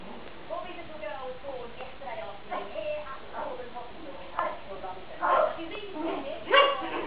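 Five-week-old Westie puppies give a few high yips and barks, loudest near the end, with a person calling to them over the top.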